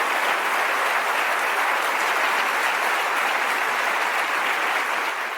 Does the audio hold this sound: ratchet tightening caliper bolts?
no